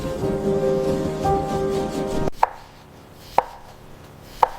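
A knife cuts yam or plantain in a home Nigerian kitchen, giving three sharp, evenly spaced chops on a board after a stretch of steady background noise.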